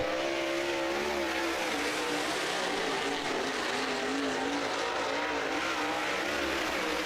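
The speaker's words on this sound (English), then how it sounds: "that 81 car looking mighty fast there" Super late model race cars at Blackwater Speedway in Florida, a steady loud engine roar with the pitch rising and falling as cars circle the track, heard without talk.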